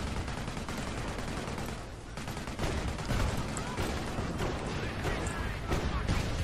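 Dense, continuous rumbling barrages of incendiary artillery and gunfire in Company of Heroes, a loud, sustained battlefield roar with sharper blasts scattered through it.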